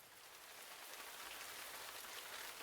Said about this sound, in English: This'll be quite the downpour.